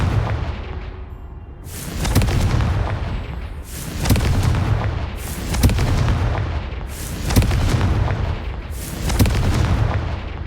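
Confringo fire spells in Hogwarts Legacy burst one after another, five heavy booming explosions roughly two seconds apart, each with a rumbling decay, loud and close with no talking.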